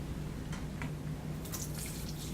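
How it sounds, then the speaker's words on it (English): Water splashes and trickles into a sink, a steady soft pour with a few brighter drips toward the end. "I'm going to pour the water"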